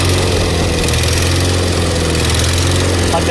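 A Miller Legend welder's engine runs at full throttle, a loud, steady, close mechanical drone with a constant low hum and rapid chugging beneath.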